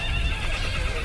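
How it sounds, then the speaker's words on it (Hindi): A horse whinnies loudly and steadily through the brief moment, up close with no talk, in a dramatized historical battle setting. "बेटा अपने बाप के घोड़े पर सवार है।"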